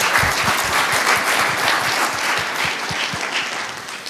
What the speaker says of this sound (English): Let's have another round of applause for all of us.